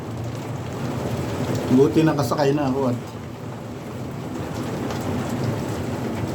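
Rain falls steadily in a constant hiss, with a low rumble like distant thunder underneath. A voice speaks briefly partway through.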